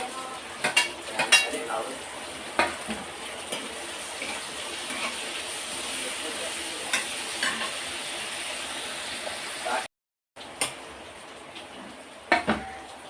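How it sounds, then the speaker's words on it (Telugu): Curry leaves and tomato fry in a pan with a steady low sizzling hiss, broken by occasional utensil clinks against the pan and one brief dropout. "ఫ్రై ఫ్రై అవుతుంది కరివేపాకు"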